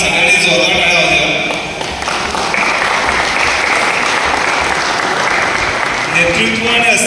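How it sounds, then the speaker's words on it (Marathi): Audience at a song launch event breaks into loud sustained applause, a dense wash of clapping that carries on steadily with voices mixed in. "एकदा आपण सगळ्यांनी जोरदार टाळ्या वाजवू"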